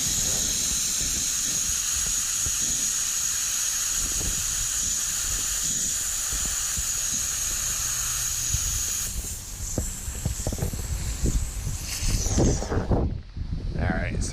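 Compressed air hisses steadily through sprinkler system lines, a loud continuous rush that shifts and sputters in the last seconds as water and air burst from the lines, with faint talk underneath.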